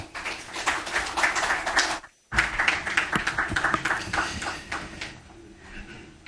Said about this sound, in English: Shall we please give Mr. President another round of applause for that comprehensive presentation.